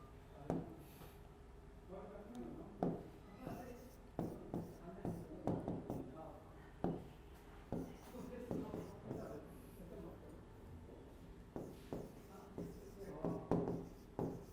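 Pen or marker writing out a maths theorem during an engineering mathematics lecture, heard as soft scratching and tapping strokes in irregular bursts, fairly close and quiet, with the lecturer speaking alongside.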